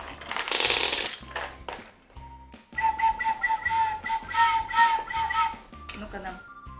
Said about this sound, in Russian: дудочка для ванны. В нее, походу, набирается вода, и она еще может дудеть